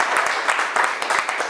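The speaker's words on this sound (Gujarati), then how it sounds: "ચાલો ભાઈ, તાળી પાડો એક વખત જોરદાર" An audience claps together for a stage show, steady close applause with individual hand claps audible, filling the whole moment.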